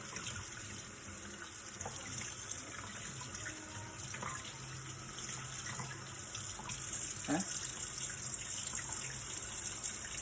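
Fish being rinsed under a running kitchen tap, a continuous close hiss of flowing water with faint splashes and clinks as the fish is handled, steady throughout with no talking.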